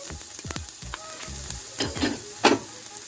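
Garlic frying in hot oil in a pan, a steady sizzle broken by a few sharper scraping and crackling bursts toward the end, close and moderately loud.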